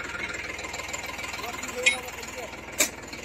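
A Mahindra 265 DI tractor engine, hauling a trolley stuck in a wet field, chugs in a steady low knocking idle, with a couple of sharp clanks and a voice talking over it.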